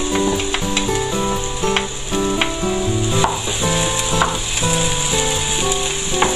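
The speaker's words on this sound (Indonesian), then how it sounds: "lalu masukkan ini bawang bombay ya, kita saute dulu atau tumis dulu" Onion sautéing in a pan for a Bandung-style soto, a steady bright sizzle running throughout with occasional scrapes and stirring knocks of a utensil, a musical backing playing underneath, no talking.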